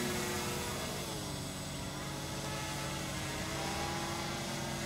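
A small pocket drone's motors run at full throttle, giving a steady, loud, unbroken buzzing whine for several seconds with no talk over it.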